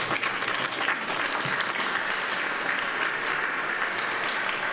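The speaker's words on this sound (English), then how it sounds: "Big round of applause." A crowd claps steadily and densely throughout, a continuous even patter of applause at moderate loudness with no voices rising above it.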